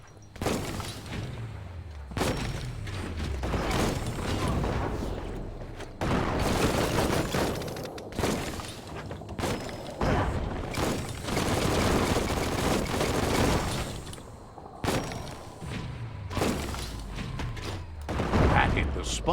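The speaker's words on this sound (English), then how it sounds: "That's a bomb lobber." Repeated booming blasts from a bomb lobber in the game Biomutant, heavy thumping explosions recurring every few seconds amid dense gunfire-like bursts, loud and close, with talk over parts of it.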